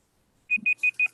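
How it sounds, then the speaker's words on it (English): A timer alarm goes off during an online team call, giving four quick, sharp, high beeps in an even rhythm, loud and close after a brief silence. "I apologize if everyone could hear that obnoxious timer"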